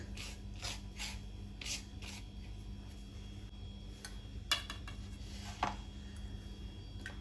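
Fine semolina is rubbed by hand onto slices of Goan madi fish, making faint, soft gritty rubbing strokes in a quiet kitchen, with a couple of slightly sharper scrapes partway through.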